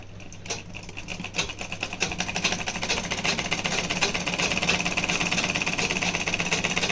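Sewing machine stitching back tacks, a rapid, steady mechanical clatter starting after a short pause and continuing evenly, close and moderately loud, with no speech.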